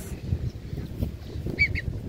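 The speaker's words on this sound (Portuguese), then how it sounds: "O pato, as patas." Ducks and ducklings at a pond, with a short pair of bright quacking calls near the end over a low, steady background rumble.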